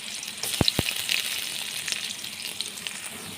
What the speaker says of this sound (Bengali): তেল গরম হয়ে গেলে আমি পেঁয়াজ ছেড়ে দিলাম।